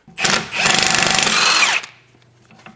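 A power tool rattles loudly and close while removing a sway bar link on a BMW E46 330i, a short impact-like burst of rapid hammering that cuts off abruptly, leaving a faint hum.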